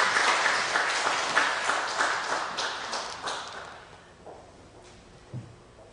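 Applause from a church congregation welcoming a speaker to the pulpit, a dense burst of many hands clapping that tapers off over a few seconds into quiet, with a single knock near the end.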